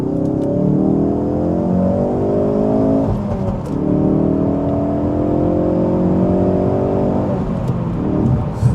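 A Ford Focus RS engine revs up hard in second gear, pitch climbing steadily, with a brief dip at a shift before pulling again; loud, close, no talking.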